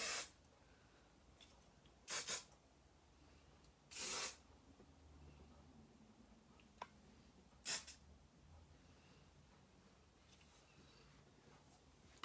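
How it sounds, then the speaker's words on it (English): Several short hissing bursts of hairspray puff out one after another, a couple of quick pairs and single longer sprays with quiet gaps between, misted over a victory roll hairstyle in a quiet room. "Give that a little spray."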